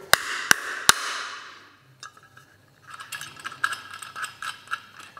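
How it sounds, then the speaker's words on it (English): A brass bush is tightened onto steel conduit with grips, giving three sharp metallic clinks followed by a run of close, ratcheting clicks and scrapes from the tool working the fitting. "just tightening up the brass bush to ensure that we have that earth continuity throughout"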